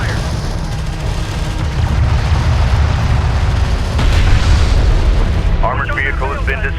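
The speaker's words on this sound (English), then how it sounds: "Armored vehicle has been destroyed." A loud, rumbling explosion as an armored vehicle is destroyed in the Homeworld: Deserts of Kharak strategy game, with a dense blast and debris roar, followed by a short synthetic voice line near the end.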